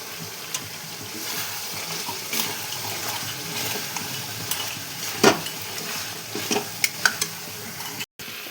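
Ground spice paste fries in a pan with a soft, steady sizzle, broken by scattered clicks and scrapes of stirring, close and moderately quiet.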